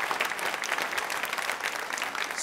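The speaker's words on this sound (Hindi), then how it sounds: "तालियां जोरों से बजाइए जोरदार तरीके से मैम के लिए" Applause from the audience of a women's association quiz show for a contestant, a quieter continuous patter of many hands clapping at some distance.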